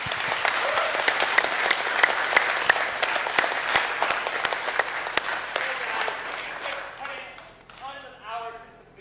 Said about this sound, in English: So can I just have a hand for her?